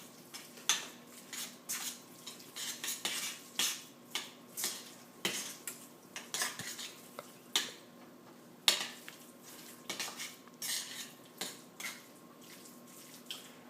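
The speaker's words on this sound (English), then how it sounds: "And then mix it all up." A spoon clinks and scrapes steadily around a bowl while lasagna ingredients are mixed, with repeated soft knocks and swishes at an uneven rhythm, close but fairly quiet.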